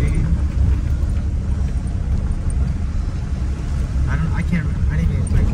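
A Toyota 4Runner offroading in a mud field after a rainstorm, a steady low engine rumble and drone from inside the vehicle as the wheels spin, with voices talking over it.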